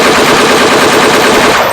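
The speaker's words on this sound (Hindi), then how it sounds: "अचानक फायरिंग शुरू हो जाती है।" Rapid, loud automatic gunfire rattles in a dense, unbroken burst during a military ambush demonstration at an army exhibition, close and harsh, with no voices.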